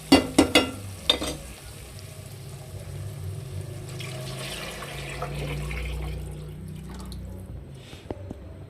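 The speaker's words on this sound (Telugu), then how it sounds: "వాటర్ యాడ్ చేద్దాం." Water poured into a pot for egg pulao: a few sharp clinks and splashes at the start, then a steady, moderate watery pour and bubbling that carries on to the end.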